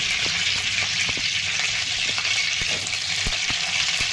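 Stuffed capsicum (shimla mirch) fries in a kadhai without water, giving a steady close-up sizzle with occasional crackles and stirring clicks throughout.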